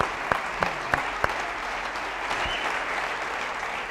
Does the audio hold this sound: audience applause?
yes